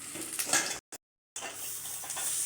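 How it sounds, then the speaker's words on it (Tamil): Chana dal, urad dal and dried red chillies dry-roast in a pan with a soft, steady crackle and rustle of stirring, broken by a brief silent gap partway through. "கடலப்பருப்பு உளுந்து பருப்பு வரமிளகா எல்லாம் வறுத்துட்டுருக்குறோம்"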